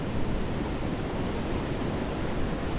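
Steady broadband rush of water waves surging up toward the shore, loud and close, with wind noise on the microphone and no voices.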